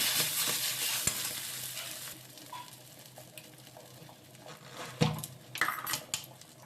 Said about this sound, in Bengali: দিয়ে আবারও নাড়াচাড়া করে নিচ্ছি